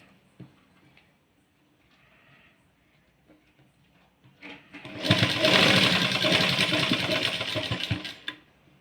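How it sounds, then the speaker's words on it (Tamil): A sewing machine stitches a blouse, running steadily for about three and a half seconds after a stretch of quiet handling noise, loud and close. "இந்த மார்க்கும் ரெண்டுத்தையும் ஒன்றா வச்சு இப்போ நம்ம தைக்க போகிறோம்"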